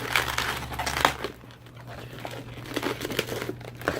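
A modelling balloon being twisted into a balloon flower pot, squeaky rubbery crinkling and rubbing up close, louder at first then continuing in softer bursts over a low hum.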